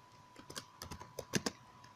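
Someone types on a computer keyboard while entering a network name in a Cisco router's settings, a short, quiet burst of irregular key clicks at close range.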